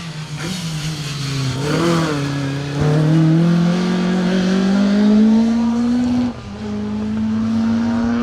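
A Peugeot 205 rally car tears along a special stage at a memorial rally, its engine loud and close, revving hard and climbing in pitch through the gears with a brief lift-off before pulling again.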